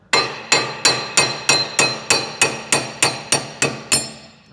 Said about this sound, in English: we're just gonna use a hammer to pound them out